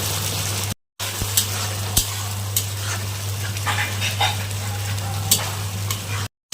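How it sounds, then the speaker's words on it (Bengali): Spices and peas fry in a pan as a little water goes in, a continuous close sizzle with scattered stirring scrapes and clicks and a steady low hum underneath, broken by two brief gaps. "এখন জল দিয়ে অল্প কষাবো। একটু জল দিয়ে দিব।"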